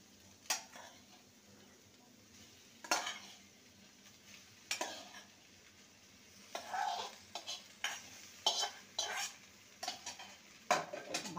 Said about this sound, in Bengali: এবার ভেজে রাখা আলু আর ভেন্ডি দিয়ে দেবো।